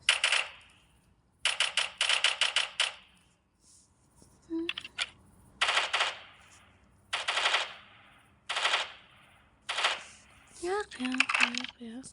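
Sniper rifle fire in the Minecraft video game comes as a series of sharp, rapid bursts of shots separated by short pauses, loud and close, with brief game sounds near the end.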